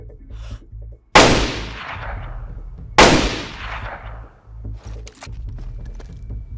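Two loud, sharp gunshots in the video game DayZ ring out a couple of seconds apart, each with a long decaying echo over a low ambient hum.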